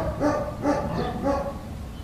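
Dogs bark in three quick, fairly close outbursts spaced across a couple of seconds, standing alone with no voices over them.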